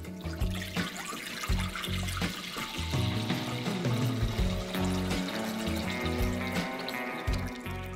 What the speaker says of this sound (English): combine 3 cups of tomato puree with 2 cups of water